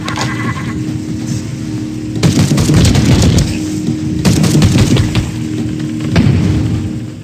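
Grenade explosions in Warhammer 40k: Battle Sister VR: three loud, deep booms about two seconds apart, each a rumbling blast that fades into a steady low background hum.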